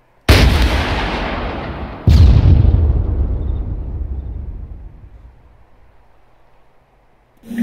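Two heavy rocket launcher blasts during Arma 3 squad training, each a loud booming launch followed by a long fading rumble, with the second coming about two seconds after the first.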